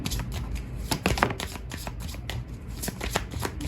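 Tarot cards are shuffled by hand in quick, crisp riffling bursts, close and fairly loud, repeating in an uneven rhythm with no voices.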